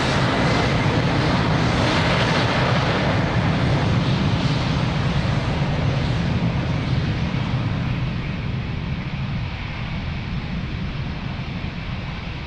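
An airliner takes off from runway 02 at Lisbon Airport, its engines a loud, sustained broadband roar that fades slowly as it climbs away.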